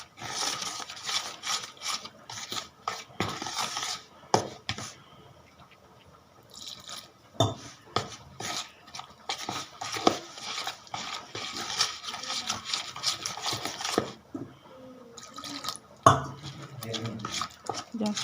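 Spinach bonda batter of flour, salt and water is stirred in a bowl, with wet squelching and a few sharp spoon clinks in steady, uneven strokes close by.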